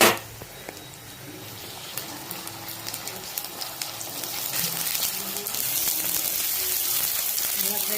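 Ginger and garlic fry in a pan for Chettinad goat trotter paya, giving a close, continuous sizzle that grows louder and denser partway through.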